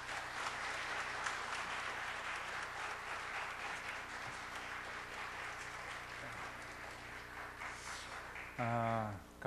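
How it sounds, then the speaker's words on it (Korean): A church congregation at a 2012 fathers' prayer meeting claps to welcome the senior pastor, a broad sustained wave of applause filling the hall, with a voice starting to speak at the very end. "우리 담임 목사님 나오실 때 큰 박수로 환영해 주시길 바랍니다"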